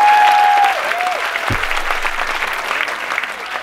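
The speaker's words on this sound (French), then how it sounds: "on peut l'applaudir quand même, il a essayé" An audience applauds in a lively room at a French live event, a steady wash of dense clapping that opens loudest and holds on throughout, with a brief tone at the start and a low thump partway in.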